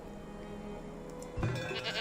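Goats bleat in a farm pen in the city-builder game Farthest Frontier, a few short bleats over steady game ambience, with a louder, nearer call near the end.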